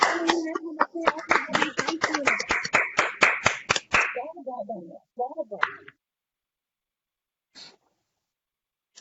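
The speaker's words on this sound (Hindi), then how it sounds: "तालियां" A short burst of hand clapping from a few people after a poetry recitation, rapid and close, followed by brief talking and then near silence.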